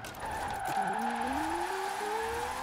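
A race car on race tires skids through a handbrake slide, its squealing tire tone bending and sliding over a steady engine roar, loud and close.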